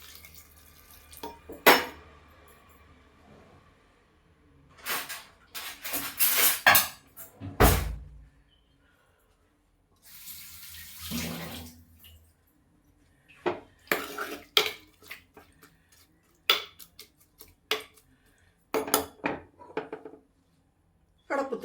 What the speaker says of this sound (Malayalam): ആവശ്യത്തിന് വെള്ളവും ഒഴിക്കാം